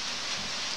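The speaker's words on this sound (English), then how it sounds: "It's a rainy day. It's been raining." Rain falls on a rainy day, a steady even hiss of drops that runs unbroken through the short moment with no voices.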